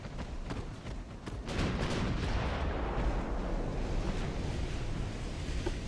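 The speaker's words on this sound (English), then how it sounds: "we are getting hammered by 10-inch guns" Naval battle in Ultimate Admiral: Dreadnoughts with 10-inch guns firing, heavy booming blasts over a constant roar of sea and wind, several shots landing close together near the start before settling into a sustained rumbling wash.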